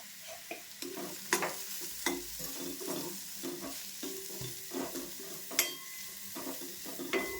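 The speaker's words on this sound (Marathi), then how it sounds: "व्यवस्थित असं परतून घ्यायचा" Malvani masala with turmeric and red chilli powder being sautéed in a pan, soft sizzling under repeated scraping and tapping of a spoon against the pan, close and fairly quiet, with no talk.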